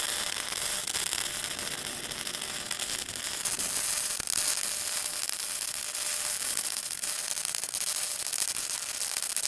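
Tack welding on metal gives a continuous, dense crackling sizzle that holds steady and fairly loud for the whole stretch, with no voices.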